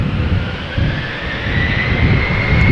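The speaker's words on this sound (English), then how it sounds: "That is a Transavia 737." A Transavia Boeing 737 jet taxiing at Amsterdam Schiphol Airport gives off a loud, steady engine roar with a rising whine, close by and unbroken throughout.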